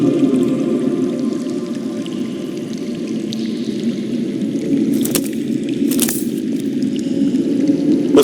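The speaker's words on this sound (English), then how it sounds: "That's water. I hear water." Underground water in a Game of Thrones Telltale video game: a low, continuous rushing flow like a hidden stream or cave water, steady and muffled throughout, with a couple of brief brighter splashes near the end.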